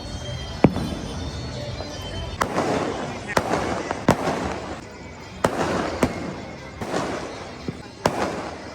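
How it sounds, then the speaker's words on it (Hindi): Firecrackers burst one after another at irregular intervals during Independence Day kite flying in India, sharp cracks and pops echoing at a moderate distance, with people talking in the background. "पटाखे फूट रहे हैं गाइस, ये देखो।"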